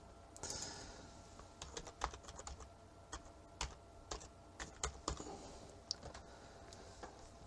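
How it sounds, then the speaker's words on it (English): Someone types a web address into a browser on a computer keyboard, a quick irregular run of close, crisp key clicks over a faint steady background. "on the address line we're going to type"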